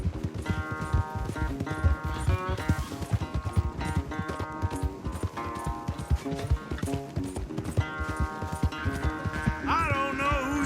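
Horse galloping in Red Dead Redemption II during a race, steady rapid clip-clop hoofbeats running throughout, mixed with a loud dense game soundtrack of music and effects.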